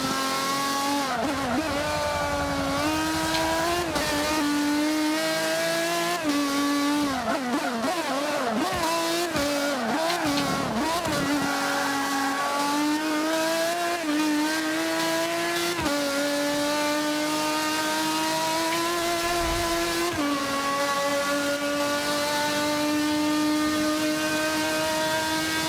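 GT race cars roar through a championship race in Forza Motorsport 5, their engines loud and steady with rising and falling revs and shifting harmonic whine, one car close and others blending in, no talk.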